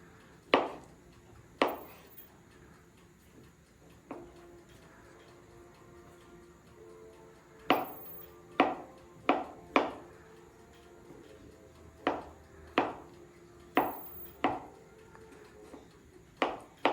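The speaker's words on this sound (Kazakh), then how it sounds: "кубиктап турап аламыз" A knife cuts beetroot into cubes on a board, making sharp, close chops that come singly and in short bursts, about fifteen in all, with quiet gaps between them.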